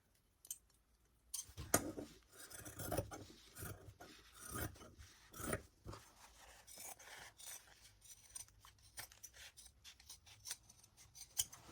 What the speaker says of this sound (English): Then I'm going to cut that out and then trace the other side and use it as basically a pattern.